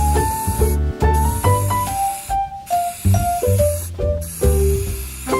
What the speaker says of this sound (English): I'm gonna spray this thing down and she's gonna be finished